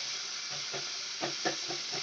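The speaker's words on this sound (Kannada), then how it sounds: "ಈರುಳ್ಳಿ ಸ್ವಲ್ಪ ಫ್ರೈ ಮಾಡ್ಕೊಂಬೇಡ" Onions for a mixed vegetable curry fry in a pan with a constant hissing sizzle, a few soft stirring scrapes sounding beneath it up close.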